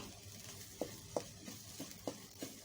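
Canned fish being stir-fried for chili paste, a faint low sizzle broken by about six soft, evenly spaced scrapes or taps of a spatula against the pan.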